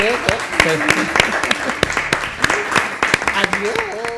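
An audience claps after a live puppet show, with scattered, uneven hand claps rather than a full ovation. Voices can be heard speaking and calling out over the clapping.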